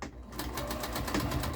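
A sewing machine back-stitches through Dollar Tree dish mats being made into a laptop sleeve, a quick, even run of mechanical stitching pulses heard close up.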